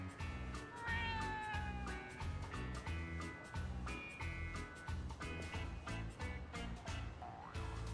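A stray cat in the Yakuza Like a Dragon video game meows repeatedly in quick, pitched cries over a steady rhythmic game soundtrack, with no talking.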